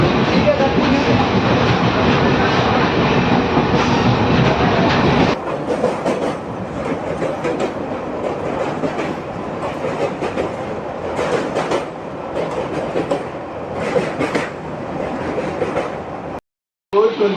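Inside a moving train travelling from Paradeep toward Kendujhar, a steady loud rumble of wheels on rails with rhythmic clickety-clack fills the whole clip, with passengers chatting in the background and a brief dropout near the end.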